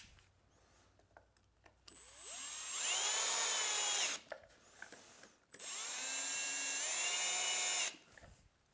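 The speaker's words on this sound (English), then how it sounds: "I'm going to be using a drill driver with a low clutch setting." A power drill driver on a low clutch setting whirs in two sustained bursts of a few seconds each, revving up and winding down as it drives pocket-joint screws, loud and close.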